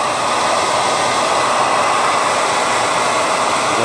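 A hair dryer or heat gun blows steadily and loudly over the rusted metal surface of a barber chair being restored, a constant broadband rush with no pauses and no voices.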